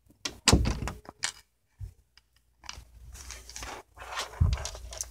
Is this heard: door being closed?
yes